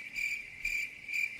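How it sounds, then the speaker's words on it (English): A cricket sound effect chirps in three steady, evenly spaced bursts of high, bright trills, fairly close and clear over quiet background with no talking. "you can do the cricket sound because it's taking forever"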